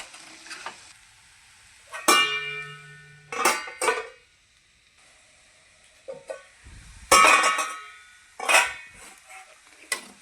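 Sabudana khichdi stirred in a pan with a spoon: irregular scraping and clattering bursts against the metal, with brief gaps of near-silence between strokes and no voices.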